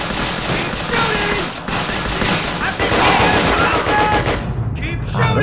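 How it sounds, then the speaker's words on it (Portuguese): Machine gun fire in Call of Duty Roads to Victory on PSP, sustained rapid bursts that fill the whole stretch, loud and close with short breaks between volleys. "Essa metranca dá um coice, cara."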